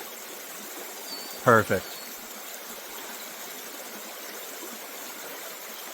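A river flows in a constant, soft hiss of running water throughout, with someone briefly speaking over it once near the start.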